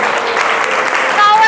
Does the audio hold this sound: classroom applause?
yes